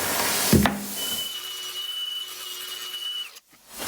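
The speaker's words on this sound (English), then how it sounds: "That's quite a light grind you've got going on there" A light abrasive grinding hum from a blending wheel on a 1983 Yamaha IT490K dirt bike part runs steadily after a sharp knock, a thin whining tone holding for a few seconds before cutting off.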